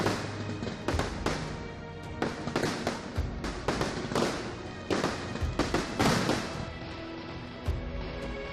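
Fireworks explode at a temple festival, a rapid dense barrage of loud cracks and bangs bursting one after another for the whole stretch, close and overwhelming, with no voices standing out.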